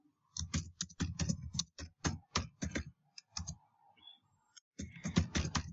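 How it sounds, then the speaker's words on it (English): Sharp computer mouse clicks come in quick pairs and clusters, close and crisp against a quiet background, with a short pause midway. "Double click up here."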